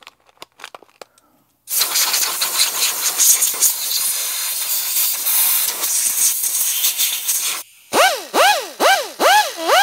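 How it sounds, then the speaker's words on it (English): A loud air compressor runs steadily for several seconds after a few small taps, then cuts off before rising, wavering tones follow, heard in a workshop while a 1956 Evinrude Fleetwin 7.5 hp outboard motor is being worked on. "fire up my air compressor"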